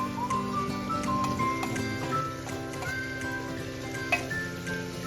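Crushed garlic and ginger sizzle in hot oil for a mutton dish, a continuous close crackle with light ticks and scrapes on top and one brief sharp knock near the end.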